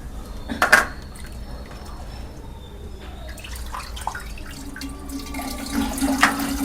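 Fish being rinsed in plain drinking water in a home kitchen: soft splashing and trickling with a couple of sharper sloshes, fairly quiet and close.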